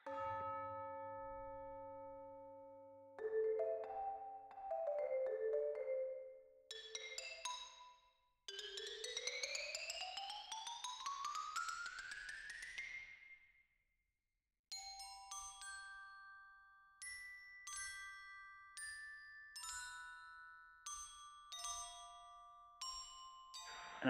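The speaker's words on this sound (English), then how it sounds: "You also have things like tubular bells" Video game music features tubular bells and other chiming tones, playing sustained struck notes and rising glissando swells, then a run of repeated bright bell strikes, moderately loud with short silent gaps.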